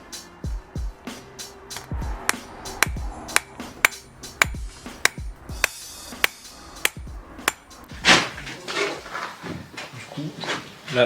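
A red-hot knife blade is hammered at a Japanese forge, with sharp metallic strikes ringing out in a quick irregular rhythm, close and loud, followed by a rougher scraping stretch near the end.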